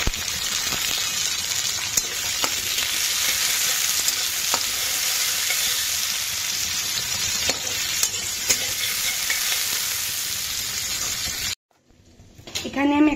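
Onion, tomato and capsicum sautéing lightly in oil for a Bengali cauliflower vegetable dish, a steady close hiss of sizzling with occasional stirring clinks, cutting off briefly near the end before more kitchen clatter.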